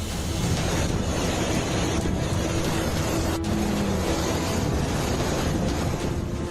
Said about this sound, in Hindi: समंदर में उठने लगी सुनामी जैसी खौफनाक लहरें